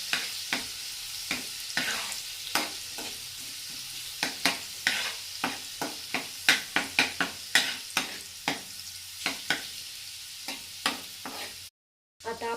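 Onion fries with garlic in a pan for methi bhaji, a soft continuous sizzle punctuated by regular sharp clicks of a spoon stirring against the pan, close and with no talking.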